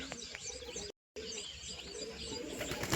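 Freshly bathed pigeons coo and chirp quietly and steadily, broken by a brief dropout of silence midway.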